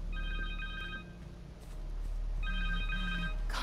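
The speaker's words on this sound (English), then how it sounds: "Connor's cell phone." Connor's cell phone rings in the Spider-Man 2 video game, a trilling electronic ringtone heard in two separate bursts with a short gap between them over a low game background.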